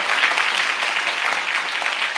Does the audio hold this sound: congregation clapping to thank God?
yes